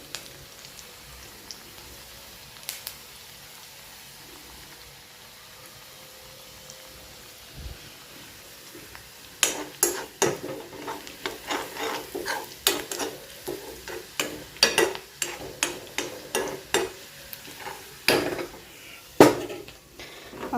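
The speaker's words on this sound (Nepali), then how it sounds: "प्याज पाक्दैछ" Onions frying in a pan, first a quiet low simmer, then bursts of sizzling crackle and scraping stirs grow louder and more frequent, close and busy with no voices.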